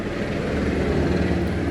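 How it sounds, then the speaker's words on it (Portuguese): A helicopter passes overhead as a dense, steady rotor and engine drone that stays loud and fairly constant for a brief moment, with no talk. "Agora é o helicóptero."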